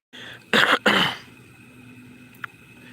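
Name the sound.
cough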